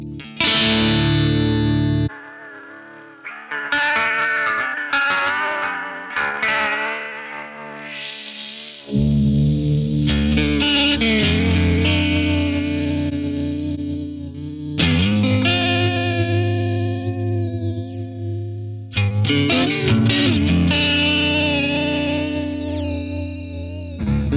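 Electric guitar played through a Chase Bliss Generation Loss lo-fi tape pedal, with a warbling effect, wobbly, slightly distorted chords and melodic lines, loud and alone.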